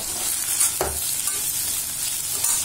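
Tomato sautés in a pan with a steady close sizzle and a brief stirring scrape partway through.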